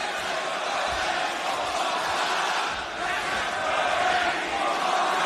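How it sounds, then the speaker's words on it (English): A Toronto wrestling crowd cheers and roars continuously at a Dynamite bout between Kazuchika Okada and Eddie Kingston, a dense, loud wash of voices with no break. "this great crowd here in Toronto, showing support for both athletes"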